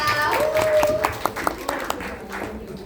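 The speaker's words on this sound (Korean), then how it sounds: "다 같이 큰 박수로 에너지 나눠줍니다" A group at a Korean team meeting breaks into clapping, several sharp distinct claps ringing out amid lively voices and chatter, fairly close and brief.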